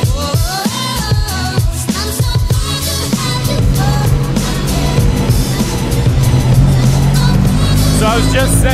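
A £1 million Alfa Romeo driving a stage of the Mille Miglia road race in Italy, its engine droning loud and close with shifting revs, under a layer of music-like tonal sound.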